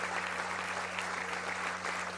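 An audience at a hospital inauguration in La Paz applauds officials, a steady, dense wash of clapping heard from a moderate distance for a couple of seconds.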